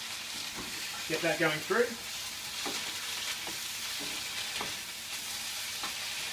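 Minced garlic sizzles in a frying pan with vegetables, a steady hissing fry punctuated by the scrape of stirring, while a person speaks briefly over it.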